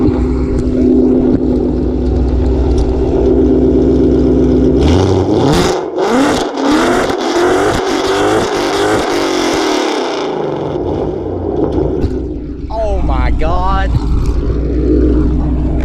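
Loud S550 Ford Mustang engine revving toward 8,000 rpm with a roaring exhaust climbing to high pitch and dropping back, close by, with a brief excited exclamation near the end.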